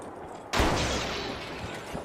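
A sudden loud gunfire blast in the video game THE FINALS bursts in close, then trails off into a long, noisy, slowly fading rumble.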